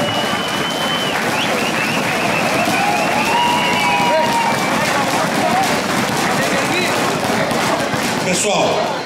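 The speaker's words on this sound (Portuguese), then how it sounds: "Pode aplaudir, pode!" An audience at a FECOMERCIO event applauds the arrival of a state secretary, a loud, sustained roar of clapping mixed with crowd cheering throughout, and faint voices and a whistle-like tone riding on top.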